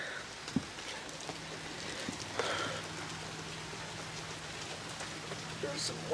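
Hard rain falls on leaves outdoors, a soft continuous patter with scattered louder drops, fairly faint and steady, while a few faint knocks and a brief voice-like sound pass over it.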